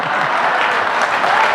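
Steady applause from an audience at a Hindi poetry recital (kavi sammelan), a dense continuous patter of many hands clapping close by, with no talk over it.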